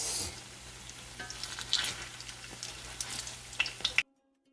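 Cabbage fritters frying in a pan, a close crackling sizzle with sharp pops and spatters building toward the end before it cuts off abruptly.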